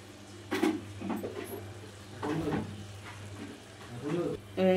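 A spoon stirs pumpkin greens curry in a pan, giving a few short scraping, sizzling bursts separated by pauses, close but moderate in loudness over a low steady hum.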